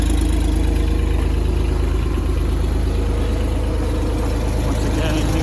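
The diesel engine of a New Holland LS140 skid steer idles steadily after a cold start, a loud, close, continuous low rumble that holds level throughout.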